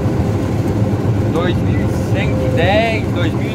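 A combine harvester engine runs steadily at high revs during a soybean harvest, a loud continuous drone heard from inside the cab while someone speaks over it.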